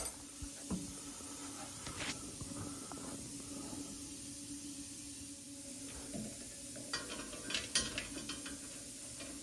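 Ratchet clicks loosening a bolt on the exhaust of a Roadster Shop Bullitt Mustang in a workshop, a few short bursts of ratcheting scattered across a quiet, hissy background, fairly faint and without talk.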